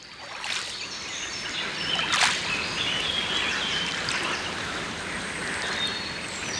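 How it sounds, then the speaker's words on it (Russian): A boat glides across a still lake at Ohrid, with soft, continuous water lapping and gentle splashing close by, a few brief sharper splashes, and no voices. "Лодка плывет по неподвижной глади озера."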